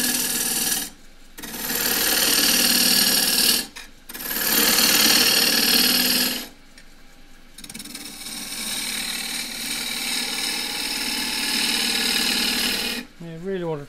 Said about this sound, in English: Now I'm going to start shaping the outside using the 3/8 deep fluted gouge